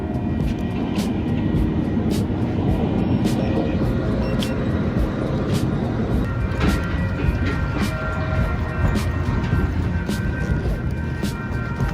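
A Metro K Line modern light rail train pulling into a station, a steady rumbling rush of wheels and motor noise held at constant loudness, with faint rhythmic clicks and tonal whines layered over it.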